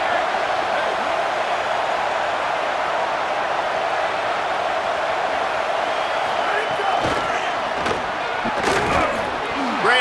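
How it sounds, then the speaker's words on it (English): Stadium crowd roaring steadily throughout a college football game in the EA Sports College Football 27 video game, a dense sustained wall of cheering with a few sharper swells near the end and a commentator's voice over it. "Listen to this crowd just shaking the girders of this place trying to help their defense."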